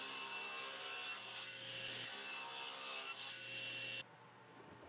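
Walnut stand legs are cut to length on a table saw, giving a steady rasping whine with several pauses in the blade's load. It stops abruptly near the end, leaving quieter room noise.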